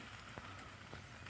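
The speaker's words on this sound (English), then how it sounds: "it's raining today." Rain falls outdoors in a faint, steady hiss of drops with a few slightly louder patters, quiet and distant with no voices.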